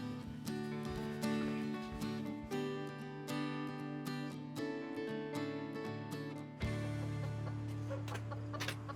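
Chickens in their coop on a farm, with soft clucks faintly audible beneath a loud, continuous layer of background music.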